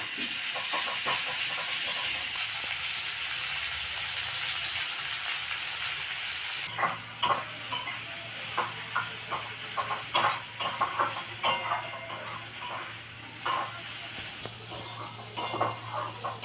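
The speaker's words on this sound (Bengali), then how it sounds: "পেঁয়াজ কুচিগুলোকে দিয়ে ভেজে নেব।" Chopped onions and green chilies fry in a pan, starting with a loud steady hiss that later settles into a softer sizzle with frequent light clicks and scrapes of stirring, heard close and alone.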